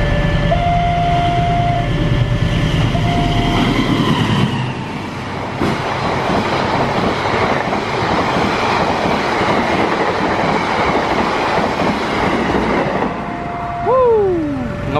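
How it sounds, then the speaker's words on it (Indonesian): The Taksaka passenger train on an Indonesian railway passes close by at speed in the rain, a loud horn blast followed by a sustained rumble and clatter of wheels, ending with another horn. "Dan ini dia kereta api Taksaka."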